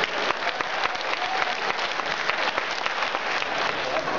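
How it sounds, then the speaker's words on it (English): A crowd at PAX East 2013 claps and gives a standing ovation: dense, steady applause that fills the whole stretch at an even level, with no break. "You stand up and clap for that one."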